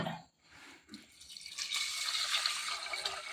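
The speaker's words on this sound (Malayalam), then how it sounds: "ഒരു 5 ഗ്ലാസ് വെള്ളം ഒഴിക്കുന്നുണ്ട്." Water is poured into a vessel holding washed split moong dal for payasam, a steady splashing gush that starts softly and grows fuller and louder over the last half.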